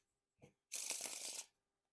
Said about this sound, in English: pretty much like an average Riffle Shuffle.